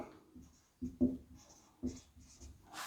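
Pen writing by hand while working a maths exercise, heard as a few short scratchy strokes and taps in bursts, close and fairly quiet, with no voice.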